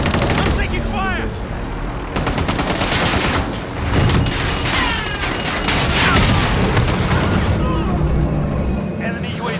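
Rapid bursts of automatic gunfire and explosions fill a squad battle-royale shooter match, dense and loud throughout with voices and in-game radio callouts mixed in.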